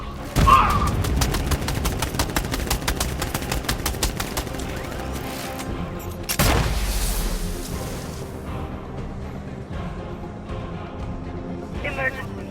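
Rapid automatic gunfire rattles continuously in Batman: Arkham Knight, broken by a heavy grenade explosion midway with a booming low rumble, then scattered shots and debris over a lingering hum.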